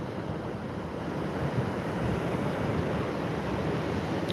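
Waves breaking on a beach produce a steady, close rush of surf and wind noise that holds at an even loudness throughout, with no voices.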